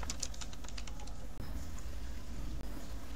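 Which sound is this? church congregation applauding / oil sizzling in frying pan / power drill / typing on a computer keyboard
typing on a computer keyboard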